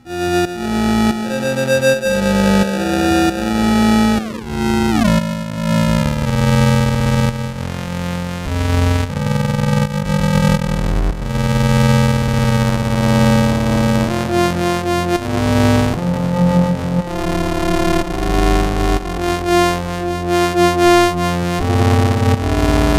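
Continuous synthesized bell tones run through an effects unit, heavily processed, lo-fi and distorted, shifting pitch and timbre throughout without pause.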